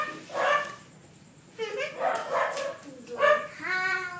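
Dog named Volta barking in short yips and woofs up close, a few bursts spread over several seconds, mixed with whimpering, with people talking in between.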